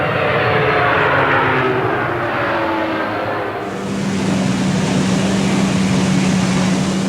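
Aircraft flyover of a 727 test aircraft fitted with an aft-mounted GE ultra-high bypass (UHB) engine, a loud continuous roar with a steady tone emerging midway as it passes overhead.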